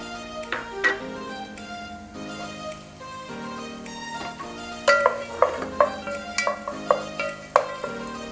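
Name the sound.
onions frying in oil in a pan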